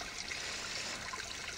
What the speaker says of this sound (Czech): Jo, už to krásně teče pryč.